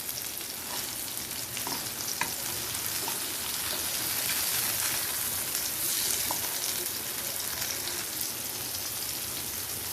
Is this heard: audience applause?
no